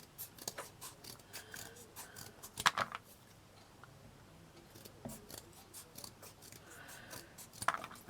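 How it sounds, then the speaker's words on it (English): Small sections of chipboard are cut at an angle for a miniature flour mill model, giving a series of quiet, crisp snips and scrapes up close, with two sharper cuts standing out. "Cut them at an angle, like that."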